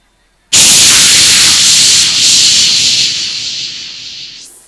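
At a stage comedy show, a voice imitates a pressure cooker whistle with one loud, sustained hissing blast that fades slightly before ending on a rising squeal.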